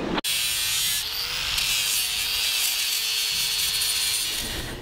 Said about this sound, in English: So now we're going to go through and just clean up the surface with our flapper.